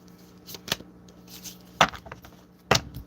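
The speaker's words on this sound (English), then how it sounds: "Let me shuffle these." A deck of tarot cards is shuffled by hand in a few short bursts, crisp riffling slaps up close, separated by quiet pauses.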